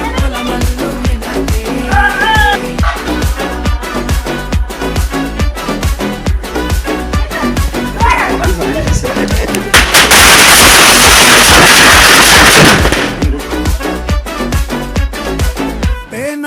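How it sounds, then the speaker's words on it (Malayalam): Firecrackers set off during a Perunal (Eid) celebration burst in a rapid, loud string of sharp bangs, with a dense crackling barrage flaring up midway before the popping continues. "അമ്മ പടക്കം പൊട്ടിക്കുന്നത് കണ്ട."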